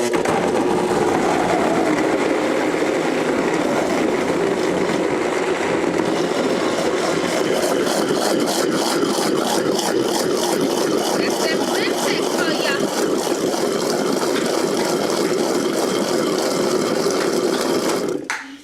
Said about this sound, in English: If you have the Blendtec blender, you're just going to put it on speed 1 or 2, and it's going to be loud